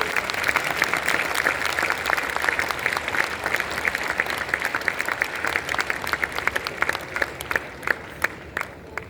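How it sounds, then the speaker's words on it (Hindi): Audience at a commemorative Arya Samaj ceremony at Bharat Mandapam applauds in a dense, steady wash of clapping that fills the hall, sustained throughout without voices on top. "वे मिलकर के माननीय जी को स्वामीनारायण देती तो तालियां बजा के अभिनंदन करेंगे"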